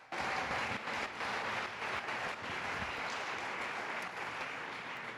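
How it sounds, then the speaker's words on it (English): A full hall audience applauds at a televised mayoral campaign debate in Toronto, a dense, steady roar of many hands held at an even level across the whole stretch, distant and continuous. "Give yourself a round of applause."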